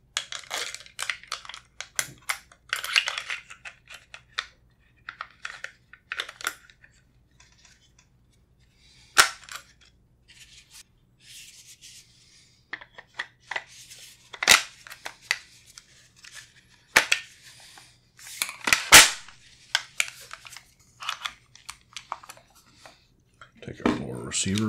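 Metal parts of a CZ BREN 2Ms pistol click and clack in close, sharp, scattered handling sounds while the recoil spring is fitted, with quiet stretches and speech in between.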